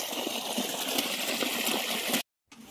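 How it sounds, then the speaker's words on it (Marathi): Water from a motor pump pouring steadily onto plants in a field, a continuous broad rushing flow that stops abruptly near the end before faintly resuming, with no one speaking. "इकडं मोटर चालू झाली आणि आपण लावले आता गिनीगोलावर पाणी"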